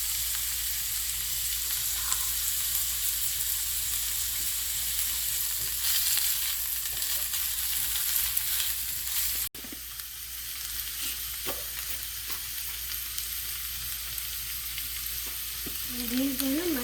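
A paste of ground ginger, cumin and green chilies fries in oil for buttermilk stew, a steady, bright sizzle throughout with occasional stirring scrapes.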